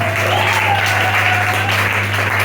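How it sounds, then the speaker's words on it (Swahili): A church congregation claps loudly and densely in dense, continuous applause for God during a worship service, a close, sustained roar of many hands for the whole moment. "Hebu mpigie Mungu makofi mengi sana."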